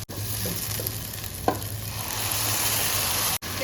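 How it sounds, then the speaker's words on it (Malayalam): Tomato paste poured into sautéed onions in a pan for a squid seafood dish, giving a steady, close hiss of sizzling throughout with a brief splash-like burst midway and a short clunk near the end. "ഇനി നമുക്ക് ഇതിലേക്ക് അരച്ച് വെച്ചിരുന്ന തക്കാളിയുടെ പേസ്റ്റും കൂടെ ഒഴിച്ചു കൊടുക്കാം"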